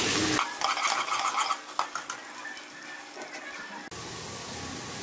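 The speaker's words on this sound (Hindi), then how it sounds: "प्याज को हमने लाइट गोल्डन करना है" Onions fry in oil in a pan for a kofta curry while being stirred, giving a steady close sizzle broken by scraping and clinking of a utensil against the pan.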